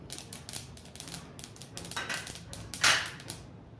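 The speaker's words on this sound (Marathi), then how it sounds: "आपल्या तिळांचा तडतड आवाज आला की आपण समजायचं की आपले तीळ भाजत आलेले आहेत" Sesame seeds roasting dry in a pan give off sharp, irregular crackles and pops, some in quick clusters and one louder burst near the end, heard up close without talk.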